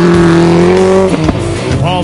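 A Subaru STI rally car at full throttle on a forest special stage of the Pacific Forest Rally, its engine note loud and close, then a sharp downshift blip and a revving climb as it passes.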